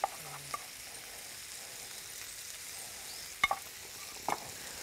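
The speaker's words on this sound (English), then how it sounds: "Just stir that in a little bit." Paprika stirred into a frying pan of cooking food, a faint steady sizzle with a few sharp spoon clicks against the pan, quiet and close with no talking.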